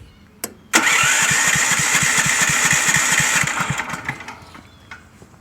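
A Sportsman 7000 generator engine is pulled and fires up after a couple of short tugs, settling into a loud, steady running rumble with rapid regular pulses that eases down toward the end, close by, with no talk.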